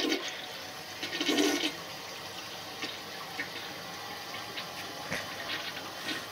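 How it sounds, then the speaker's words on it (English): A pinkish 1964 Chicago Potteries toilet flushing, a rushing gurgle of water that surges early and then settles into a steady refill hiss, close and clear with no talk. "Give it one more flush."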